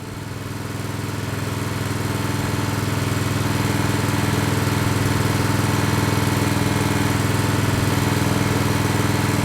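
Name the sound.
Generac Briggs & Stratton 4000XL generator running at idle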